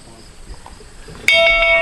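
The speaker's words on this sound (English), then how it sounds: "Jack, you want to ring the bell?" A farmstead bell is rung by pulling its rope, a single sudden bright clang that rings on and sustains after quiet room noise with faint voices just before.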